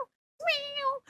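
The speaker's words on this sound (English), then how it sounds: "Meow, meow." A kitten on a TV show gives a single clear, rising-and-falling meow, near and fairly loud, preceded by a brief short sound.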